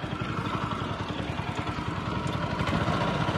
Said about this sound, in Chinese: 启动引擎了。 他是拿那个绳子拉一下，